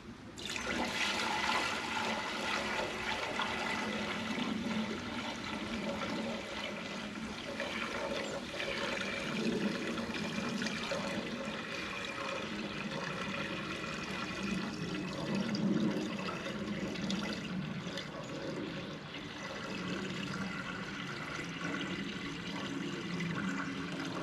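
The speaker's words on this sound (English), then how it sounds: "You want to make sure you add your sap to the evaporator" Maple sap poured into a Vermont Evaporator Company evaporator during a boil, making a steady, continuous splashing flow of liquid that runs without break for the whole stretch, with no talking.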